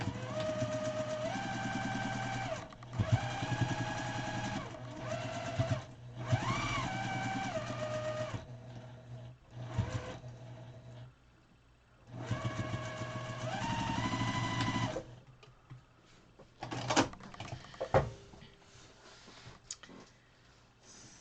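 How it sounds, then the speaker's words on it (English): A sewing machine joins quilt blocks in several close bursts of rapid mechanical stitching with pitch rising as it speeds up, broken by pauses filled with clicks and fabric handling. "We'll sew them together."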